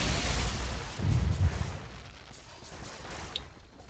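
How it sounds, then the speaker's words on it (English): Steady rain ambience during a competitive video game match, a soft continuous hiss with a few low rumbles near the start, quiet and unbroken by voices. "Oh, is it raining in here?"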